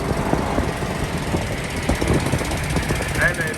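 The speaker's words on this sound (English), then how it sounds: "My buddy in a Chevy got lifter tick." A Chevy engine with lifter tick or an exhaust leak runs close by, with a steady rough rumble and a fast rattling tick, and someone talks over it.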